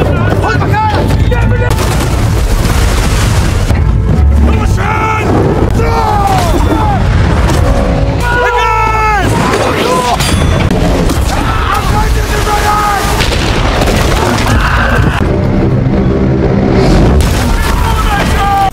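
Battle scene with long-range artillery aimed at a Roman fleet from a Numidian fortress, heavy booms and dense gunfire-like blasts over a continuous loud din, with music and voices mixed in.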